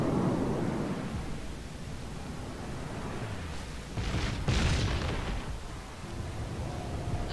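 A warship's main guns test-fired in World of Warships: a broad, rumbling boom with a couple of sharp blasts near the middle, set against steady low game noise and engine hum.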